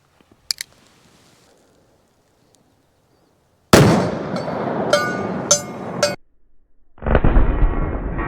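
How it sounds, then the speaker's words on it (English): Shots from a North American Arms Mini-Master revolver in .22 Magnum: after a faint click, one loud, sharp report with ringing decay, then three more quick cracks and a final blast, close and harsh. "the North American Arms Mini-Master mini revolver chambered in 22 Magnum"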